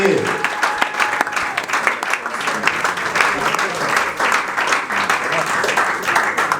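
A church congregation claps and applauds steadily and loudly, a dense crowd of hands sustained throughout with voices faintly mixed in.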